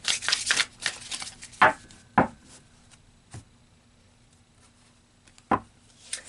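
Tarot cards shuffled and tapped in a quiet room: a flurry of crisp riffling at the start, then a few separate sharp slaps and knocks spaced out, fairly close and alone.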